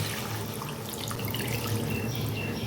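Warm water pours into a fish curry with cabbage, a steady close splashing trickle and liquid gurgle running throughout without a break.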